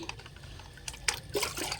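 Water poured from a mug onto a potted pineapple plant, a short run of close, soft splashes and trickles that rise near the end.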